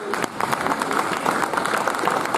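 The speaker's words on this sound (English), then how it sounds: "a big round of applause for the captain" Audience at a cricket league annual awards presentation applauds the club captain, a dense, steady burst of clapping from many hands filling the room for a couple of seconds.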